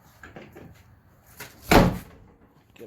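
A Jeep Wrangler JL door swings shut with one loud, solid thud, preceded by faint rattles and handling noises, close by with no talk.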